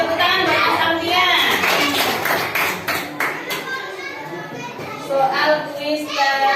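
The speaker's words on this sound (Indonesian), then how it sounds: "Tepuk tangan buat Aulia." A class of children claps for a student during a fiqh lesson on ritual purification, with steady clapping mixed with children's chatter and voices throughout.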